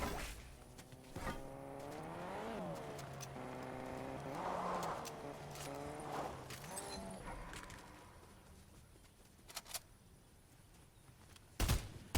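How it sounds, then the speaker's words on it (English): Cars driving in a Fortnite match, with engine tones rising and falling across the first several seconds, then thinning out to quieter game sounds and a sharp burst near the end. "Why are there so many cars in this match?"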